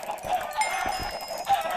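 Chickens clucking in the Minecraft video game, a cluster of short, fairly loud bird calls in quick succession over steady game background sound, with no talking.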